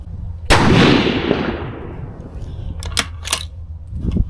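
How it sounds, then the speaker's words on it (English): A rifle shot rings a steel gong target once, a sharp loud impact with a long metallic ring that slowly decays, followed by faint clicks and handling noise near the end. "I'll go ahead and put one in steel here. Off the paper on a gong."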